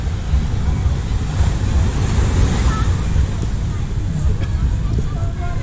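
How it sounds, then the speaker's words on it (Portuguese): Calm sea waves at the quiet end of a beach in Ubatuba, Brazil, a steady low wash of surf with wind buffeting the microphone, continuous and fairly loud. "O mar é bem menos agitado."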